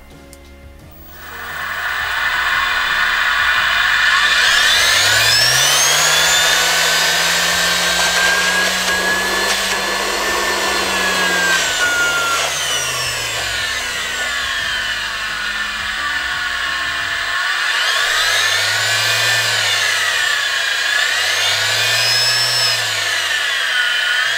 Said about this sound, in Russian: Пробую запускать мотор